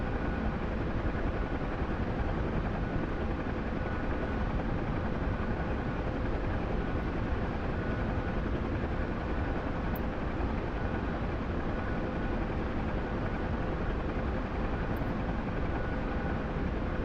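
A Huey helicopter flies in formation, its engine and rotor giving a loud, steady broadband drone heard from inside the cabin, constant and unchanging for the whole stretch.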